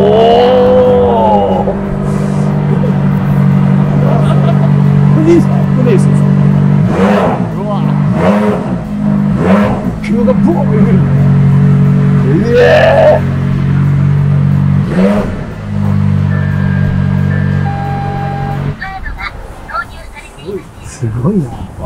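A Ferrari sports car's engine starts and revs in bursts, its deep loud roar swelling and falling several times, with people talking excitedly over it and the engine settling lower near the end.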